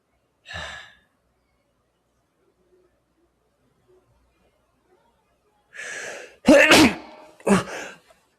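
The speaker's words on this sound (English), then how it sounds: "that's not good when you sneeze and it hurts your back." A sharp sneeze bursts out near the end after a quiet stretch, with a couple of forceful breathy bursts and a short sigh at the very start.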